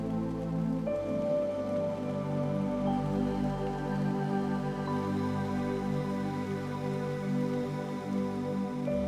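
Steady rain patters continuously under a soft, sustained musical drone, with no talking.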